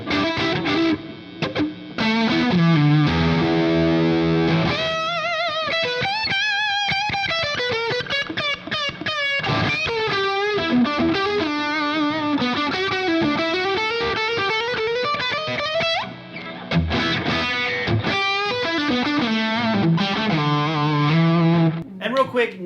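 Electric guitar lead lines through a Soldano SLO 30 amp with a JHS delay pedal, high-gain, sustained bends and fast runs trailing echoes, loud and continuous for over twenty seconds without talk.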